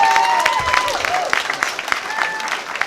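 A crowd applauds at a Shark Tank-style presentation event, with dense, steady clapping filling the room from start to finish and a voice faintly heard over it.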